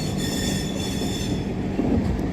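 Saurashtra Mail Express train running toward Mumbai, a loud steady rumble of wheels on rails with a high metallic squeal of the wheels, continuous and close from on board.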